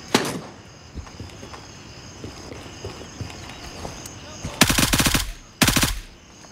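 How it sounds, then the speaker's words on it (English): Shotgun blasts in the military shooter Gray Zone Warfare, a loud early shot followed by two close, heavy bursts near the end, with quieter game ambience and footsteps between. "Shotgun."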